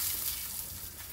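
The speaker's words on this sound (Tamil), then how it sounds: "கல்லில் போட்டோடனே சுற்றி எண்ணெய் ஊற்றிட்டு இதை வந்து அப்படியே திருப்பி போட்ட வேண்டியதான்" Parotta fries in oil on a hot griddle stone with a steady, fairly quiet sizzling hiss and a single sharper crackle near the end, close and without talk.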